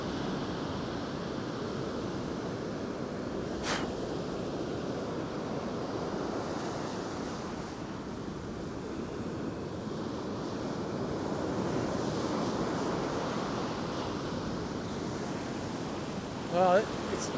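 Ocean surf breaking along a beach, a broad continuous wash of churning water and wind noise that swells slightly midway, steady and moderately loud with no voices over it.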